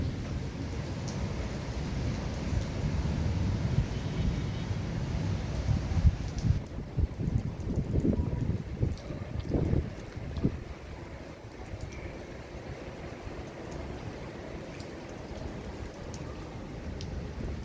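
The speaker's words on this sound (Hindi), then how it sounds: "बारिश अच्छी हुई है" Heavy rain pours down in Rawalpindi as a dense, steady roar close by, with deeper rumbles swelling midway before the downpour settles back to an even hiss.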